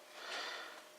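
An eight-year-old white German Shepherd sniffing nearby, one soft, airy breathy snuffle rising and fading over a second, faint and alone.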